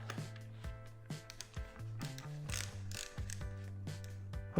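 Ratcheting wrench tightening a nut onto a washer on a DIY camera hat mount, rapid quiet clicking pawl ratchets in short bursts, close and faint.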